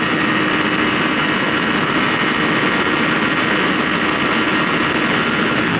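A Kawasaki Ninja 250 motorcycle engine runs steadily at part throttle, a continuous loud drone mixed with wind rush, unbroken for the whole stretch with no talk.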